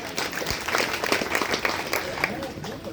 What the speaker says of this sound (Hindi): तो मैं चाहूँगा अजीज़ुर रहमान के लिए एक बार ज़ोरदार तालियाँ हो जाएं